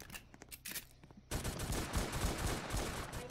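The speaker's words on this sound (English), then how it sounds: "Stop shooting me!" Rapid bursts of gunfire in the Roblox game Brookhaven RP during a cops-and-robbers bank robbery, sparse shots at first, then a dense, loud, continuous volley of repeated shots.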